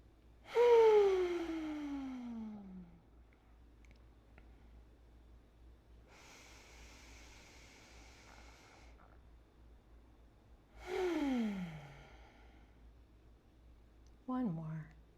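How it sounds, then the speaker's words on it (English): Slow, deep breaths during a yoga reset after Warrior poses: two long audible exhales with a quieter inhale between, close and unhurried, then a short final breath. "let's take a few breaths here to just reset."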